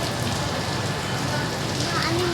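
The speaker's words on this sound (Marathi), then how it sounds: "खूप पाऊस आहे" Heavy rain pours down steadily, a dense loud hiss of drops hitting surfaces with no break, heard up close outside a shopping mall.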